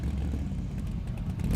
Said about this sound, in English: Engine did not sound healthy there